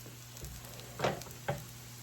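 Salmon croquettes fry in a pan with a faint, steady sizzle beneath a low hum, broken by two brief louder crackles near the middle.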